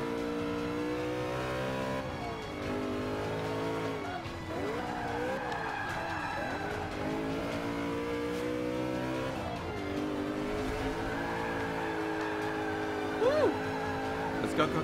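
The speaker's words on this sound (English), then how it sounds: "Oh, that exhaust." Simulated car engine from Forza Motorsport 5 on Xbox One, drifting through turns with a sustained revving exhaust note, rising and falling pitch, brief tire squeal near the end, while someone talks over it throughout.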